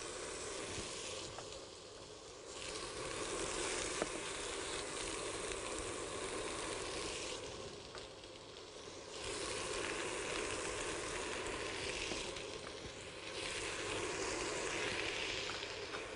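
Thin slices of meat hiss loudly in a hot pan with garlic, stirred with a wooden spoon. The broad, steady sizzle eases off briefly twice before surging again.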